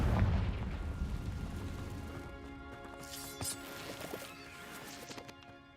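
A Confringo blasting spell in Hogwarts Legacy going off as a deep booming explosion at the start, then decaying rumble with scattered crackling pops and debris hits.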